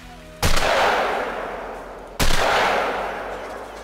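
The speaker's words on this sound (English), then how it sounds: "Two shots." Two loud shotgun blasts at a moose in a hunting video game, each a sharp broadband crack trailing into a long decaying roar, about two seconds apart.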